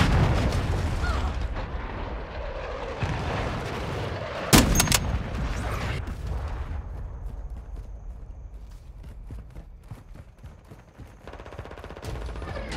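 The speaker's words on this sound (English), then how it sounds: "Hostile cruise missile incoming." A cruise missile strike in Call of Duty: Modern Warfare 2 brings loud rumbling artillery-like blasts and gunfire, with a sharp explosive crack near the middle, then a longer decaying roar of distant bursts.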